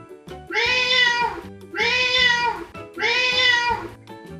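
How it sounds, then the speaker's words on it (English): A cat meows three times in a row, each call long and drawn out and evenly spaced, loud and close with no talking. "This is the sound a cat makes."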